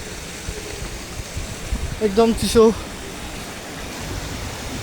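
A flowing village river, a steady broadband rush of water heard close by throughout, with a brief spoken voice over it midway.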